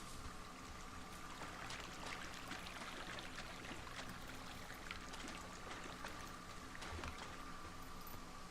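Creek water flowing steadily in the video game Firewatch, a continuous close rushing and trickling with no talk.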